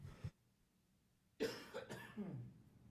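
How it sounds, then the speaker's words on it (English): A few harsh coughs close by, with a short earlier cough, in a quiet room during a board of education meeting. "Pardon my coughing, folks, hang on."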